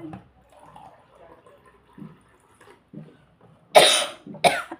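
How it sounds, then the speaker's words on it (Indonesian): Two sharp coughs near the end, loud and close, after a stretch of quiet murmuring and faint sounds. "jadi batuk"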